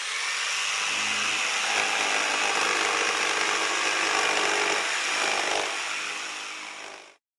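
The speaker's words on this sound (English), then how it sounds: "You have a band saw, you have a circular saw, and this one makes this sound." A circular saw cuts through wood with a loud, continuous buzzing rasp that runs for several seconds and then quickly winds down to silence.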